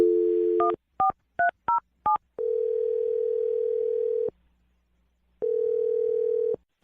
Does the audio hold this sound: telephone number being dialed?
yes